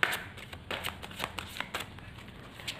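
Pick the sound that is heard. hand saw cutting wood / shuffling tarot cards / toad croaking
shuffling tarot cards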